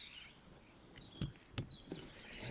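Birds chirping faintly outdoors at an airgun shooting spot, thin high calls scattered over quiet background, with a few soft thuds in between.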